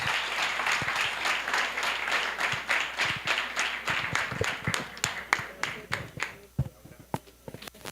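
Audience applause for a doctor after a nutrition talk: a burst of many hands clapping that thins into scattered individual claps and fades out by the end.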